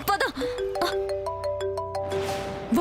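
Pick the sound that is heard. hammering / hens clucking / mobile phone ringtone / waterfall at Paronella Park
mobile phone ringtone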